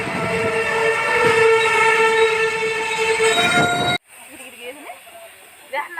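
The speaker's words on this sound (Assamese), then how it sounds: "এইবিলাক ট্ৰেইন আহিলে দেখিছে নাই" A passenger train at Longpotia station sounds a long, loud horn blast up close for about four seconds. The sound then drops abruptly to a quieter platform scene with faint voices and scattered noises.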